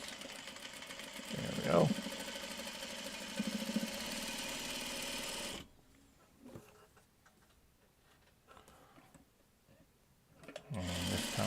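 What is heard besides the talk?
sewing machine stitching fabric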